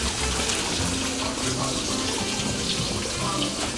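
Boiling pasta water pours steadily from a pot through a colander in a college kitchen, a loud, continuous gushing rush that lasts throughout, with voices faintly beneath it.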